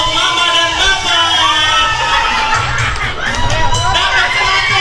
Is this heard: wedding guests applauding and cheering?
yes